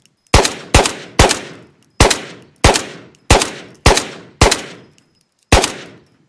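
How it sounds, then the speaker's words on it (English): Gunfire in the VR shooter Ghosts of Tabor: nine sharp, loud gunshots in an uneven series, each with a short decaying tail, the last after a slightly longer pause. "this is where all the shooting's going on."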